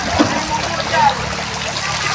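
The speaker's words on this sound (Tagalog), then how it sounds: "So, mayroong shower, oh." A resort shower runs as a steady hiss of falling, splashing water with faint trickling, close and continuous under a speaking voice.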